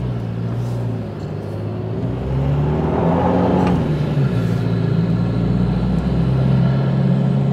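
Car accelerating after a throttle controller install, a low engine drone that rises in pitch and swells louder partway through, heard from inside the vehicle.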